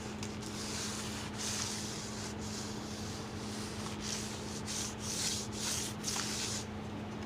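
A hand rubbing across a polyurethane finish dotted with tiny spatters and bumps, giving a steady, close, dry scraping rub with brief brighter swishes as the palm passes over the rough spots, heard alone without talk.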